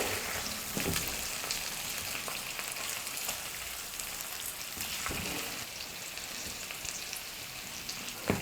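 Chicken leg pieces fry in hot oil with pepper powder, giving a steady, dense sizzle and crackle that runs unbroken and fairly loud, with no voices.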